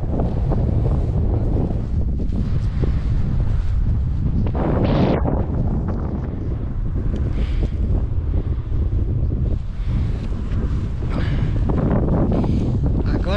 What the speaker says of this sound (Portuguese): Vento gelado.